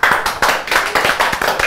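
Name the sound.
applause, people clapping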